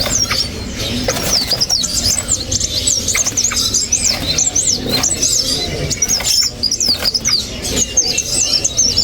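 A sunbird's rapid, high-pitched chirping song repeats in quick bursts against a busy, noisy background with scattered clicks and knocks, loud and close.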